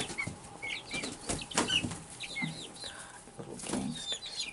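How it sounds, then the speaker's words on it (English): Baby chicks in their new home peep repeatedly in quick, high chirps, mixed with soft clucks and scuffling sounds at close range, fairly quiet overall with no talking. "they're establishing their pecking order"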